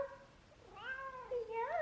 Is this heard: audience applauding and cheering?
no